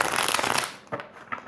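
Tarot cards are shuffled close up, a dense riffling flutter for about half a second followed by a few softer taps and slides of the deck.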